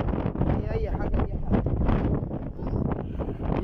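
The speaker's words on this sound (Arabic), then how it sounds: "ايه ده هوا شديد جدا" Strong desert wind near Belbeis buffets the microphone in loud, gusting rumbles that rise and fall continuously, while people talk over it.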